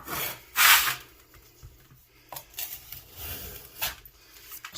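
A tool scrapes loose sand from a sandcasting mold in a few rough, raspy strokes, one loud sweep followed by quieter irregular scrapes close by.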